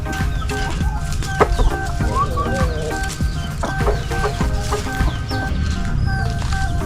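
Native chickens clucking steadily in a busy coop on a small farm, several birds overlapping with short calls and a continuous low background rumble.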